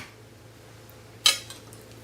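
Flatbread pizza flipped over in a hot pan, a single sharp clatter of spatula against metal standing out from a quiet, steady background hum, followed by a faint softer tap.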